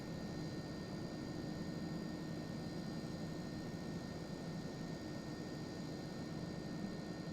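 Steady jet engine noise from a CitationJet in X-Plane 12, a continuous low rumble with faint high tones, holding a constant level as the throttle is eased back.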